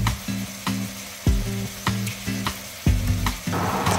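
Beef and tomato stir-fry with oyster sauce over medium heat, tossed in rhythmic strokes that land as regular clanks and scrapes over a loud, continuous sizzle.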